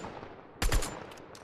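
A short, close burst of rapid gunfire from Fortnite played on mobile, aimed at a wooden wall: a few quick shots bunched into about a quarter second, then a lull with faint game noises.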